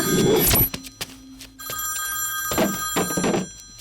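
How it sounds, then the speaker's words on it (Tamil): A mobile phone rings nearby in a room, a loud electronic ringtone with bright repeating tones that pauses briefly and then continues, with a few faint knocks and movement around it. "இங்கதான் எங்கயோ ரிங் சத்தம் கேக்குது"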